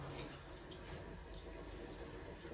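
A tap runs warm water into a basin for soaking white clothing, a faint, steady stream with a soft continuous splash and no talking.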